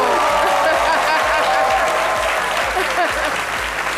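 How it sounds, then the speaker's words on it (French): Loud, sustained applause from a studio audience on a midday television talk show, dense rhythmic clapping close by that holds strong for the whole stretch, with some voices mixed in. "ça mérite des ovations, des applaudissements"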